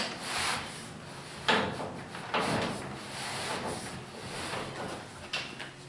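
A rubber garage door bottom weather seal slides along its cleaned, lubricated retainer, giving a steady scraping rub over about six seconds with a few sharper knocks and no talk.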